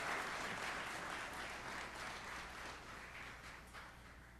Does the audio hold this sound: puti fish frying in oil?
no